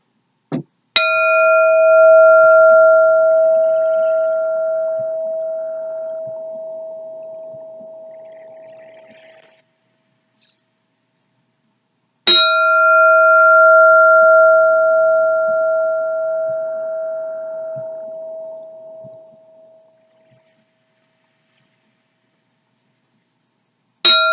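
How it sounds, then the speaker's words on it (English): A meditation bell at a zazen session is struck twice, about twelve seconds apart, each stroke ringing clear and sustained before slowly fading into silence. "sound of the bell calls you back to your true home"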